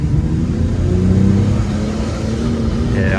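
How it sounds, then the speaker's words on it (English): A Ford Falcon XR6 car engine drones loudly at steady, strained revs without climbing, failing to rev with the pedal floored, a constant close mechanical roar that holds flat throughout. "I'm foot to the floor there, and it's not revving anymore"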